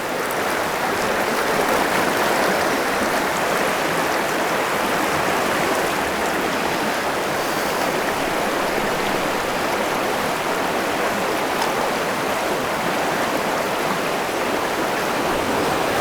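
A stream in a desert oasis rushing along a cliffside, a loud, continuous, even wash of flowing water close by with no voices.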